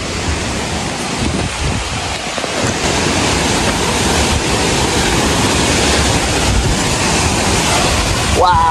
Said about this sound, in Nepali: त्यो झरना